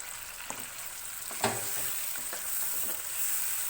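Tomato paste hits a pan of browned chicken on medium flame, giving a soft steady sizzle with a few sharp clinks and scrapes of stirring, fairly quiet overall.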